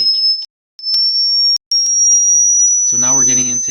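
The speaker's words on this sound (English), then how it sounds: "But these are all sine waves here." A steady high-pitched pure sine tone rings continuously, broken by two brief gaps and a few clicks, with a voice beginning to talk over it near the end.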